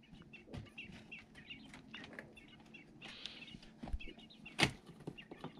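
Quail rooster makes soft, hen-like clucking calls mixed with rustling and light flapping, then a sharp louder call near the end, close by, with no speech.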